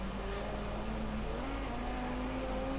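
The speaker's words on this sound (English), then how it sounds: "what a lovely, lovely sound and view of the car heading into the chicane" A GT3 race car on the Nürburgring Grand Prix circuit heads down the back straight into the chicane, its engine a steady, distant drone holding an even pitch throughout, with no talking.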